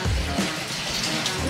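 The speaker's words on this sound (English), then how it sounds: "Spray tap." Water running from a spray tap at an Elsan point in a canal basin, a continuous close hiss of spraying water with a faint low rumble beneath, steady for the whole brief stretch.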